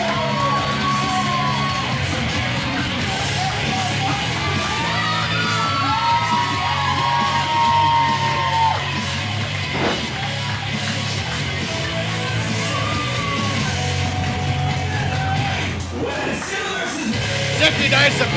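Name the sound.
crowd cheering for competitor Marcus Eriks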